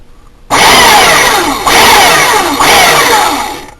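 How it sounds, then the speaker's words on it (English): A belt sander is switched on and grinds down an alcohol can stove: a loud, close whirring roar starts abruptly and holds steady, with three surges as the metal can is rolled against the belt. "I'm just going to roll it real gently on this belt sander"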